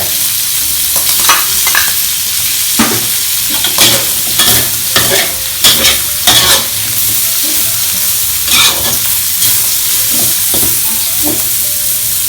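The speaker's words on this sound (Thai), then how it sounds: "เราก็จะ ใส่พริกหยวกลงไป" Pork liver and banana peppers are stir-fried in a hot pan, giving a loud, close, steady sizzle broken by repeated sharp scraping and tossing strokes, with no talking.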